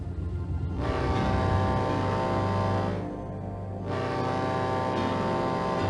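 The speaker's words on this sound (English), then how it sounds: "Quick, blow your horn again." A tugboat horn sounds a long, loud, deep blast twice with a short dip between, low and droning.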